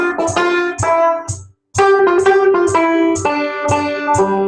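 A hornpipe tune played from a score on a bright, plucked-sounding melodic instrument with chordal accompaniment, a steady bouncy rhythm of clear notes with a brief pause near the middle, loud and without talk.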